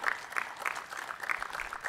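Sparse audience clapping at a live tech conference keynote, a few hands beating in an uneven rhythm, moderately loud in the room with no other voices.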